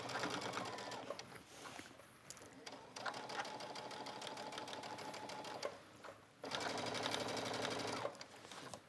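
A serger sews around the curved hem of a denim shirt dress in fast, buzzing bursts, starting and stopping several times with quiet pauses between runs.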